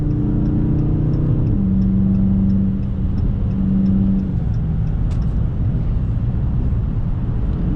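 A Dodge Scat Pack widebody accelerates hard on the highway, a loud, continuous engine roar with rising pitch and a quick shift partway through, no talking.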